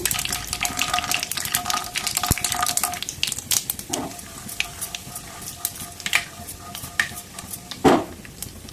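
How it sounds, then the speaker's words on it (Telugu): Mustard seeds, cumin and peanuts crackle and sizzle in hot oil, heard close as scattered sharp pops and spatters, along with a spoon clinking and scraping against the pan and no talking. "బాగా హీట్ అయిన తర్వాత ఆవాలు జీలకర్ర పల్లీలు"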